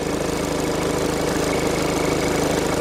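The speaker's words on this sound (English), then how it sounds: "let's disconnect it and start the engine up" A car engine, started with a battery booster pack, idles close by with a steady rumble, an even low throb and a faint knocking rhythm, continuous throughout.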